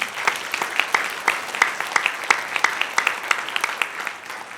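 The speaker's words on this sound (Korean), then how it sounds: "우리 하나님께 다시 한번 영광의 박수 하시겠습니다" A church congregation at an Easter Sunday service applauding together, sharp distinct claps in a loose rhythmic stream at moderate distance, with no talking over them.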